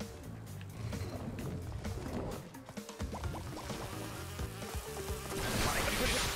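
Bees buzzing in Crash Bandicoot 2, a steady insect drone layered over game music and effects, continuous throughout and rising toward the end.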